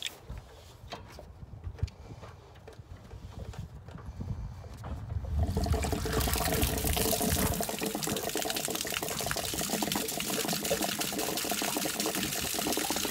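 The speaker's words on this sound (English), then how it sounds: "we're gonna let that flush out" Water drains out of an RV hot water heater while it is flushed. Faint trickling and clatter turn into a loud, steady gushing rush that continues to the end.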